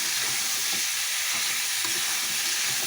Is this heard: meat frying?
yes